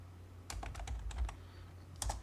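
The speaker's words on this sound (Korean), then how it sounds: "MI를 입력하고 엔터 클릭." Typing on a computer keyboard while entering the AutoCAD mirror shortcut MI and pressing Enter, a quick run of close, crisp keystrokes followed by a brief pause and a last pair of key presses, over a low steady hum.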